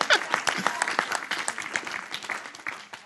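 An audience clapping hands in a hall, a sparse, uneven patter of individual claps that starts louder and gradually thins and softens, with faint voices in the background.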